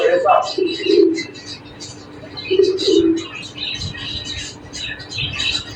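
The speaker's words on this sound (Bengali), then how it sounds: "দেখুন কত রঙের কত কবুতর" Pigeons of many colours kept in pairs inside a bird-seller's godown give soft low coos in two short bursts, with faint chirps and chatter from other birds behind.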